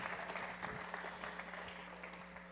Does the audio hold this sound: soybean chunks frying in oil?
no